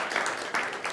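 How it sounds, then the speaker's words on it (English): Audience applause for a group of volunteers at a live body language stage show, a dense steady wash of clapping filling the room, close and fairly loud throughout. "big round of applause to all these volunteers"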